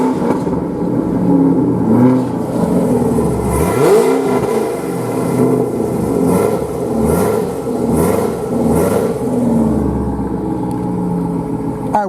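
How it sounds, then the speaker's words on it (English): A 2016 Cadillac CTS-V supercharged V8 engine revs up and settles repeatedly, a loud, steady rumble with rising and falling pitch sweeps, close and continuous. "let's give it some revs"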